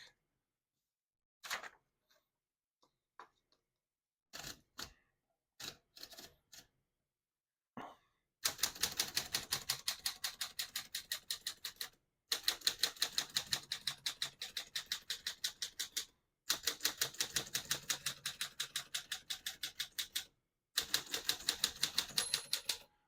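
Rapid mechanical keystrokes clatter in fast bursts with short pauses between lines, preceded by a few scattered clicks and clunks of a 1948 Smith-Corona Sterling portable manual typewriter.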